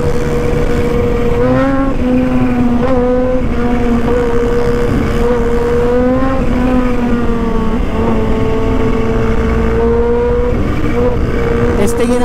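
A Raider 400cc motorcycle engine revs and accelerates loudly and steadily for the whole stretch, its pitch rising and dipping with each throttle change, up close with wind and road noise and a voice talking at times.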